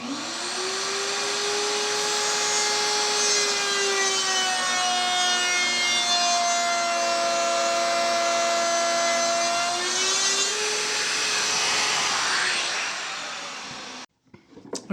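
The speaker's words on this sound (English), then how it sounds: "then you can use the router with a dovetail bit to cut out the dovetail" A router fitted with a dovetail bit cuts into clamped wood, a loud, steady high whine with a droning pitch that holds for about fourteen seconds, shifts slightly partway through, then cuts off abruptly.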